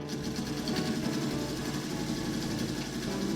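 A sewing machine stitches a baby bib in an even, continuous run, its motor a steady close whir with rapid needle clatter throughout and no talking.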